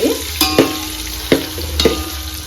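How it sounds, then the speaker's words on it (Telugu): Food sizzles steadily in a pan while cooking egg dum biryani, with several sharp clinks and scrapes of a utensil stirring against the metal over the constant frying hiss. "కొద్దిసేపు ఫ్రై కావాలి."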